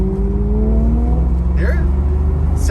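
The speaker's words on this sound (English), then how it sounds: "you can hear Anthony's car" A sports car engine revs nearby, a loud throaty rumble that rises and falls, with a brief higher whine near the end.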